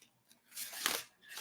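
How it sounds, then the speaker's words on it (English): Tarot cards shuffled by hand in a couple of brief papery riffling bursts, close and soft, with no talking. "I'm gonna shuffle these one more time."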